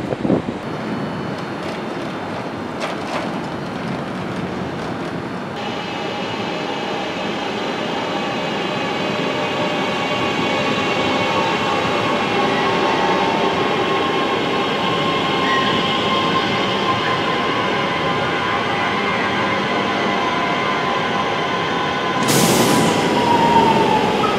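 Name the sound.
train departing station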